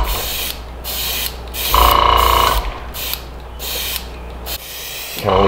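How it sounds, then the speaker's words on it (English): Paint spray gun spraying a crawfish crankbait lure, a close, steady hiss in repeated bursts with short gaps, one burst louder and longer than the rest. "See how it's darkening up as I'm spraying."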